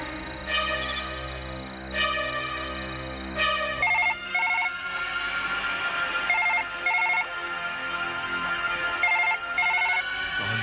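A phone ringtone plays a repeating electronic melody, with bursts of beeping tones recurring at regular intervals over a steady musical backdrop.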